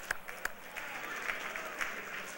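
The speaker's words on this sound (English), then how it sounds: "Next generation, round of applause." Scattered audience applause at a public affairs event honoring the next generation of young servicemembers, faint and distant with a few sharper individual claps standing out.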